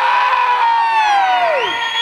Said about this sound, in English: I'll give a free shot of bourbon to the person who screams the loudest